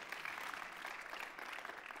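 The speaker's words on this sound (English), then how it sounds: "Give yourself a round of applause." A church congregation applauds, steady dense clapping from many hands, moderately distant and even throughout.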